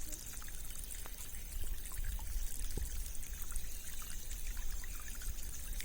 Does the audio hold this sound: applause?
no